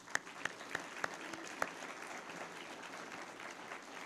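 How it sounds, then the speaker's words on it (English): Audience applause at an awards ceremony, several sharp close claps in the first seconds over a softer spread of clapping that thins and fades toward the end. "another round of applause."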